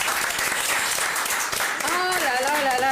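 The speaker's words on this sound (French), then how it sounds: "On peut l'applaudir, applaudissez-la." An audience applauding at a live radio show, sustained clapping throughout, with a voice speaking over it near the end.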